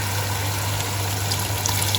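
About a cup of water pours steadily into a pan of sweet and sour chicken sauce in a short continuous splash, with a low hum underneath.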